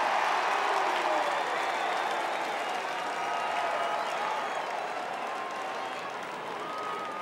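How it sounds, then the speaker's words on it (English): Crowd applauding after a goal at a 2006 AFL match between West Coast and Sydney, a modest, steady spread of clapping from a large stadium audience that slowly thins out. "Not an overwhelming response by the crowd to the goal"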